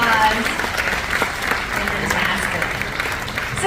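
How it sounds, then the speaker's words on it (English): Audience clapping for a glassblower after a live demonstration at the Corning Museum of Glass, a dense, sustained round of applause from a crowd, with voices talking over it. "Let's give Michael a big round of applause."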